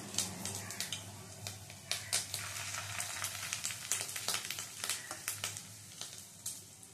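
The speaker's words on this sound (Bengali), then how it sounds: "একটা চামচের সাহায্যে বড়াগুলো দিয়ে দিচ্ছি।" Marinated fish roe and masoor lentil fritters frying in oil crackle and pop in quick irregular bursts over a steady sizzle, fairly quiet and with no talking.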